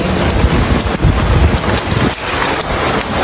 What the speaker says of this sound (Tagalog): Ayan na, nag-umpisa na yung baha sa amin.